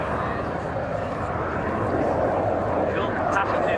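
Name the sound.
aircraft flying at an airshow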